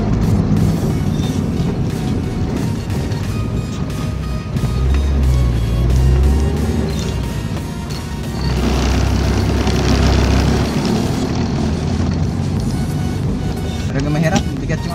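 An overloaded tricycle hauling heavy Hardiflex boards labours uphill, its engine droning loud and close with a rough, strained low rumble that swells midway, while people talk over it.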